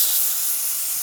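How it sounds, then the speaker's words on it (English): Carburetor cleaner sprays onto a snow blower carburetor in a short, close, steady aerosol hiss lasting about a second. "Just spray it a little bit to clean it up."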